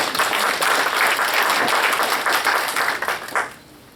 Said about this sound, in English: So I'm going to give you a round of applause.